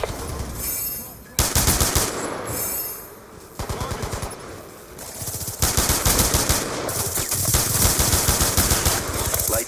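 Assault rifle fire in a Call of Duty game sounds as loud, rapid automatic bursts. Several separate volleys are broken by short pauses, and the fire becomes a longer sustained stream toward the end.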